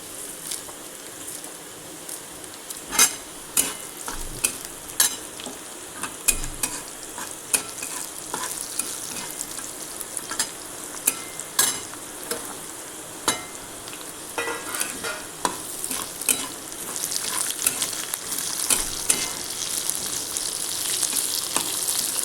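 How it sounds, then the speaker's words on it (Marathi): Spices stir-fried in a little oil for egg curry, a continuous sizzle broken by frequent sharp scraping and tapping of a spoon against the pan, the hiss swelling louder toward the end. "आणि हे सगळे मसाले मस्त खमंग भाजून घ्यायचे"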